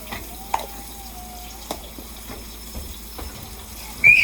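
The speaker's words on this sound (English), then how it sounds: "we're just really gonna stir fry this" Philly cheesesteak filling being stir-fried in a pan, a soft, low sizzle with occasional light clinks and scrapes from stirring, fairly quiet and close.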